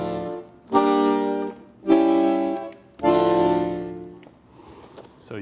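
Tango ensemble playing a heavy pesante rhythm, three long, drawn-out accented chords swelling and fading in a slow, weighty pulse.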